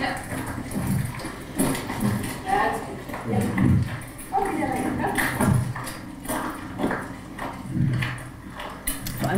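Horse hooves clop in an irregular walking rhythm on a hard surface, fairly close, with people talking over them.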